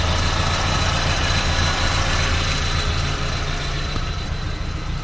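A 1992 Nissan Hardbody D21 truck engine idles steadily close by, a low continuous rumble with a slightly uneven, sputtering character throughout and no talking.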